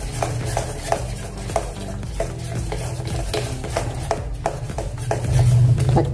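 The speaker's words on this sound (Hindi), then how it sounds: "और अच्छे से फेंट लेंगे।" Steady rhythmic whisking of potato snack batter with baking soda and water in a bowl, with regular light clinks of a utensil against the side, continuing close and even throughout.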